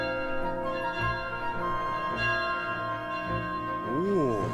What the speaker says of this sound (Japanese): 鐘が鳴ってますね。